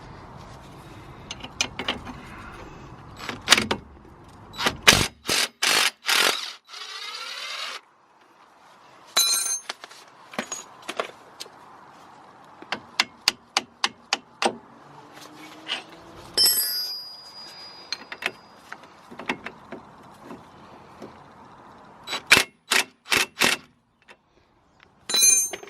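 Hand tools clink and ratchet against car suspension bolts as the bottom bolt is loosened and the top bolt removed during a camber adjustment, a sequence of sharp, close metallic clicks and bursts with short pauses between them.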